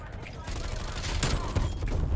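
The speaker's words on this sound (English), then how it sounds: "Enemy napalm strike incoming." An enemy napalm strike lands in Call of Duty Black Ops Cold War on the Raid map, a dense roaring barrage of blasts and crackling fire that runs throughout, loud and continuous, with a voice speaking over it.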